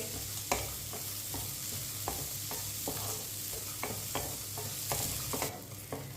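Semolina halwa roasting in a pan as a spoon stirs it, soft repeated scraping strokes over a low continuous sizzle, close and without any talking.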